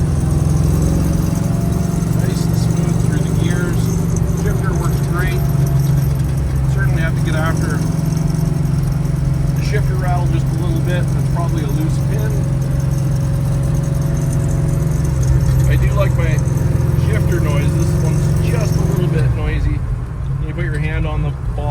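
A 1965 Chevrolet Chevelle Malibu coupe with a 500 hp 454 LS7 big-block V8 drives steadily, its deep continuous engine drone loud and close throughout while someone talks over it.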